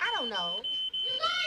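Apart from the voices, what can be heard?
smoke alarm beeping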